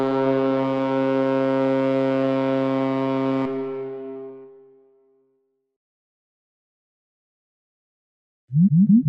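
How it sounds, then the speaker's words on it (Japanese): A ship's horn sounds one long, deep, loud blast of a few seconds, then cuts off with a brief fading tail and silence, followed by a few short low sounds at the end. "これは船。"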